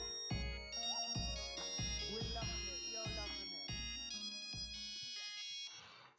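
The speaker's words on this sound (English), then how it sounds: "I love how she played the beat off of the old Nokia mobile." A hip-hop beat for a track is built on the old Nokia mobile ringtone melody. Bright, beeping synth tones ride over a steady pattern of punchy low kicks, and the beat fades out at the end.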